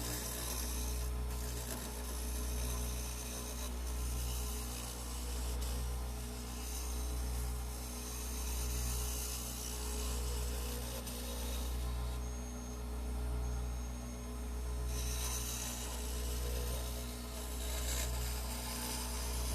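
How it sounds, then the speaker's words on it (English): Wood being scraped with a tool on a spinning lathe while turning a 12-inch oblique piece, a steady rough rasping over the machine's low pulsing hum, no talk. "Okay, now we're going to scrape."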